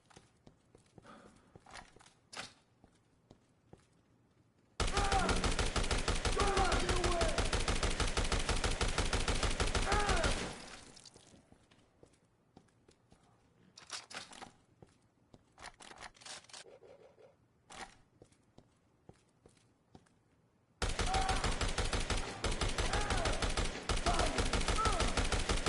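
Bursts of rapid gunfire in the Dead Rising Remastered video game, two long loud sustained volleys separated by quieter scattered shots and game sounds.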